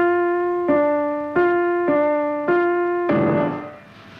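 Five struck piano chords from Stockhausen's Mantra, repeated evenly and close. Each rings with a clear sustained tone until the next strike, and the last one carries a brighter, noisier attack before it fades.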